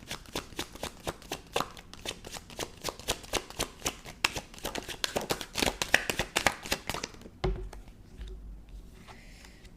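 Tarot cards shuffled by hand in a quick, steady run of crisp riffling snaps for about seven seconds, followed by a few softer handling sounds.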